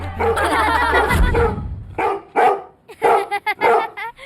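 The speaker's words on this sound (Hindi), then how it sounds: "आधी रात से ये ऐसे ही भौंक रहा है" A dog barks loudly and close by in a comedy sitcom scene, a long excited run of barks followed by several sharp separate yaps and whimpers, with no talk over it.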